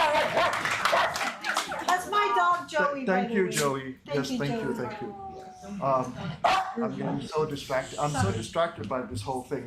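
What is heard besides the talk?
dog barking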